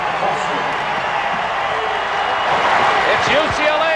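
Louisville-UCLA 1980 NCAA championship basketball final crowd roaring with cheers, a loud, sustained arena din that swells toward the end, with a commentator speaking over it.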